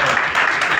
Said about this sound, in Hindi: इन दोनों के लिए प्लीज ताली बजा दीजिए एक बार।